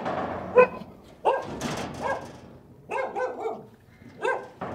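Dog barking inside a locked house, a series of sharp, fairly close barks and yips in uneven bursts separated by short pauses, heard alone without talk.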